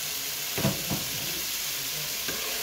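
Tomato goes into onions frying in a pan, where a continuous loud sizzle is broken by a couple of soft thuds and a brief stir near the start.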